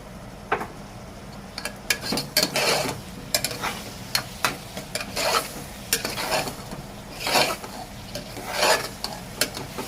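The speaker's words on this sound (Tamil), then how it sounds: "நல்லா கிளறி விட்டுக்கோங்க" Soya chunks with ginger garlic paste are stirred in a pan, making repeated rough scraping strokes in an uneven rhythm over a low background sizzle.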